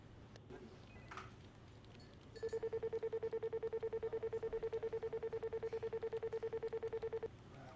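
A telephone is dialed: a rapid, even run of touch-tone beeps sounds for about five seconds against a quiet background.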